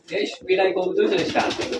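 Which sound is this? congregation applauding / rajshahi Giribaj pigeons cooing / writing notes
rajshahi Giribaj pigeons cooing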